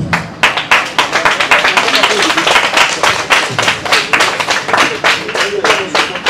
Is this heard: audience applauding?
yes